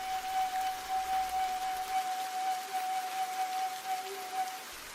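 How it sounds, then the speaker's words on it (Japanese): Steady rain falls on a moonlit spring night, a dense even hiss with a thin sustained tone running through it and no voices. "雨の降るおぼろ月の夜"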